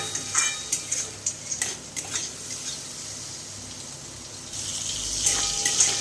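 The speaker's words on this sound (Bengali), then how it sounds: "জল দিয়ে মশলাটাকে আর একবার ভালো করে একটু কষিয়ে নেব।" Spice paste for a cauliflower and potato curry sizzles in a pan as a utensil scrapes and stirs it in quick clinks and knocks, followed by a steadier frying hiss, close and fairly quiet, no voices.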